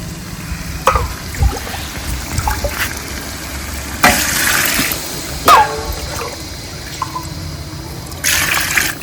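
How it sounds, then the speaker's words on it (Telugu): Water pours and splashes into a pot of rice from a lota in a few bursts, with clinks and faint background noise between pours. "ఒకటికి రెండు రెండు లోటాలు వాటర్ పోస్తున్నానండి నేను"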